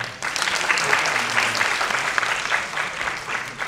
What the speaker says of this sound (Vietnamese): Một tràng pháo tay cho Tuyền Tăng.